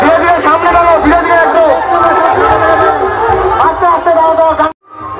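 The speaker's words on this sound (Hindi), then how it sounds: "बहुत ही भीड़ है, बहुत ही भीड़ देख सकते हो।" Dense crowd chatter and babble fill a Jagannath Rath Yatra chariot procession in Gangarampur, loud and continuous with many overlapping voices, cutting out abruptly near the end before resuming.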